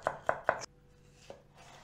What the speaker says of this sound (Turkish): Sarımsaklarımızı da hemen böyle diş diş doğruyoruz